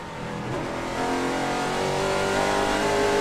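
Race trucks roar at a racetrack during the MemphisTravel.com 200, a dense engine drone that shifts as drivers come off the throttle, sustained and loud.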